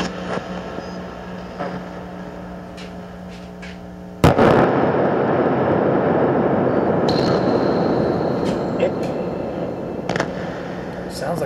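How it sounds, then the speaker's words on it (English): One sharp, loud bang cracks out midway like a gunshot, followed by a burst of dense noisy static from a spirit box, with faint clicks and pops scattered across the remaining seconds. "Sounds like a gunshot."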